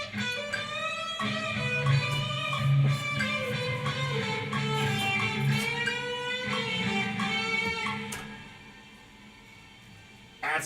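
Electric guitar solo run through a Quick Muse effects unit with random effects, heavy reverb and echo smearing each melodic note into shimmering trails, ending in a fading tail with a sudden burst at the close.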